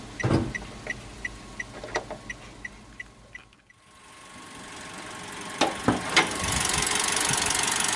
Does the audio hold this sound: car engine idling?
yes